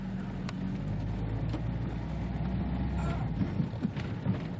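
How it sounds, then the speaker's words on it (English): A car drives past a motor caravan pulled in at the roadside on the narrow dune road of Spurn peninsula, a steady engine and tyre rumble that swells slightly near the end, with no talking. "Pulled in to let that car pass."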